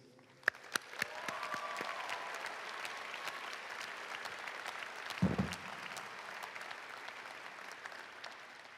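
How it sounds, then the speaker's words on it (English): An audience applauds graduates at a college commencement, a sustained wash of clapping from a sizable crowd heard from a distance, with a brief thump partway through. "Please join me for a round of applause for all of our graduates"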